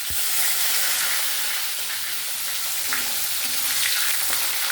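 Tomatoes fry in a hot pan for crab curry, giving a loud, continuous broadband sizzle and hiss with faint scraping from stirring, no voices.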